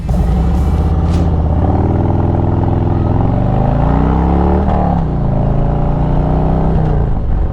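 A motorcycle cruises with its engine revving through the mid-range, 2,000 to 4,000 RPM. The loud, close exhaust rumble rises and falls smoothly in pitch, with no talking over it.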